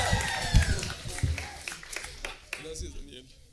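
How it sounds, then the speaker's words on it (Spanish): A comedy roast audience claps for the next comedian coming on stage, moderate applause that fades toward the end with some voices mixed in. "Un aplauso para el maestro Ray Contreras"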